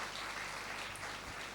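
Guests at a live church wedding ceremony in Nuzvid clap together, a soft, distant, continuous patter of applause in a large room with no talk over it.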